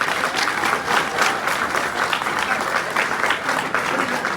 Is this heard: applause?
yes